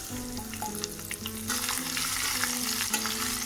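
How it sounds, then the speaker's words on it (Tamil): Steady crackling sizzle of cashews and raisins frying in hot ghee for sweet pongal, continuous and close, with occasional stirring scrapes and a low hum underneath. "முந்திரிய வத்தலை போட்டு பொரிக்கிறேன்"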